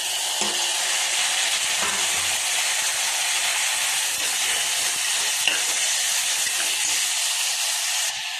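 Chopped tomatoes frying for a vegetable biryani, a steady close sizzle and hiss that runs unbroken for the whole stretch with faint stirring scrapes underneath.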